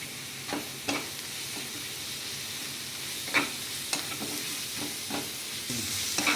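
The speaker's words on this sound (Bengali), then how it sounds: "ভালোভাবে মশলাটা কষানো হয়ে গেছে" Onion sautéing in a pan with ginger-garlic paste and spices: a steady background sizzle with a few scraping stirs of the spoon, fairly close, and no talking.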